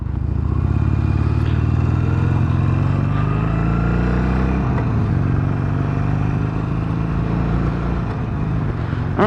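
A Harley-Davidson Iron 883 Sportster rumbles loud and close as it pulls away, its low V-twin idle thump rising into a throttle sweep as the bike moves off.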